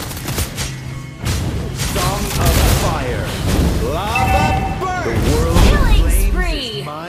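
Mobile Legends battle with a turret being destroyed: booming explosions and rapid bursts of combat effects under overlapping game announcer voices, dense and continuous across the clip.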